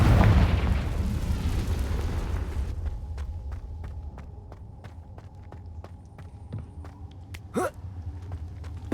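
Spell blasts from Bombarda and Confringo in Hogwarts Legacy: a loud opening rumble that fades, then a run of sharp, evenly spaced impacts and one louder crack near the end, with no talk over it.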